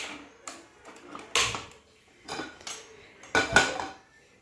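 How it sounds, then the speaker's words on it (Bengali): Metal cookware clanks onto a gas stove in a home kitchen, a few sharp close clatters and knocks spread across a quiet moment before prawns are steamed. "প্যান বসিয়ে নিলাম।"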